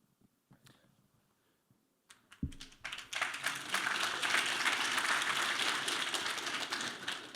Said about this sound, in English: that's why they're clapping